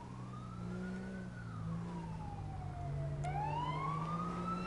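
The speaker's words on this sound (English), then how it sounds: "do you know what the sirens are" Emergency vehicle sirens wail in a video game, a rising and falling tone that sweeps down and then climbs again after a brief click, steady and moderately loud with low engine rumble beneath.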